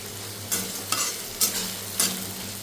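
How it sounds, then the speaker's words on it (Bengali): Onions fry in oil left over from frying potatoes and eggs for a dak bungalow mutton curry. A low, steady sizzle is broken by four brisk spatula stirs scraping the pan, close by and without speech. "এটা একটু কিছুক্ষণ ভাজা হোক।"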